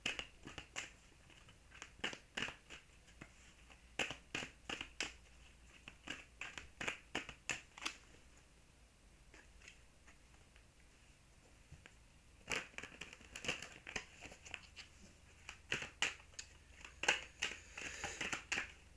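Wild Mystic tarot cards are handled close up, with soft crisp flicks, snaps and rustles coming in quick bursts separated by quiet pauses.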